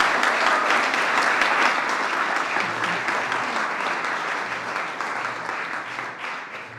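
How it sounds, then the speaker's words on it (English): An audience at the Te Whatu Kairangi awards gives sustained, dense applause for award recipients, loud at first and gradually fading, with no talking over it. "please, another round of applause for all of our award recipients tonight"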